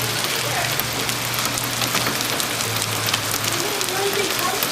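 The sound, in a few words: heavy hail pouring down outside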